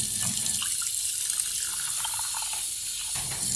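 Water trickles and pours from a dish drying rack straight into a kitchen sink, a steady close splashing flow that barely changes for a few seconds.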